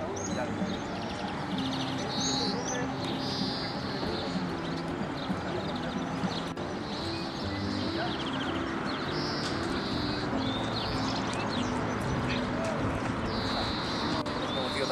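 Goldfinches, linnets and greenfinches chirp and trill in overlapping song, bright and continuous, over a steady background murmur.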